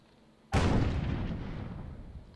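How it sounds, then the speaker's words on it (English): In the tabletop game Warhammer Underworlds, a wizard casts a ranged magic shot: one sudden loud blast that rolls out into a long, fading rumble. "Some shots coming in from the wizard."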